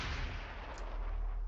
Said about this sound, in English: FTL drive engaged.